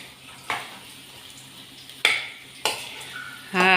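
Potatoes frying in a pan over low heat give a soft steady sizzle, broken by a few sharp stirring scrapes and clinks of a utensil against the pan, close and without voices.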